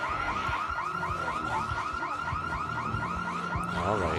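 In Project Zomboid, a zombie-triggered car alarm blares on without pause, its fast cycling electronic whoops steady and prominent, with occasional low knocks and shuffles beneath.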